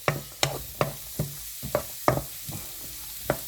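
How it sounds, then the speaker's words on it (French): Onion, shallot and garlic sweat gently in olive oil, giving a faint, soft sizzle broken by about ten sharp, regular knocks and scrapes of a utensil stirring in the pan. "De quoi baigner le mélange oignon, échalote et ail qu'on va blanchir tranquillement"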